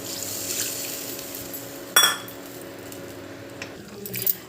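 Water is poured into a pot of potato and chickpea curry cooked without onion, a soft liquid wash with a brief clink partway through, heard fairly faintly in a quiet kitchen.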